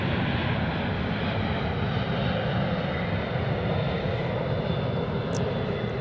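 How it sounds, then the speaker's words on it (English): A UPS Airbus A300 freighter's engines rumble steadily at DFW airport, a broad, continuous roar heard from a moderate distance with no break for the full stretch. "We get an A300 blocking out from UPS."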